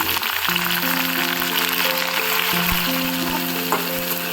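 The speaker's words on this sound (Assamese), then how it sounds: "আগতে মই শুকান মাছখিনি অকণমান ভাজি ল'ম" Dried fish fries in hot oil, a constant close sizzle and crackle with music playing underneath.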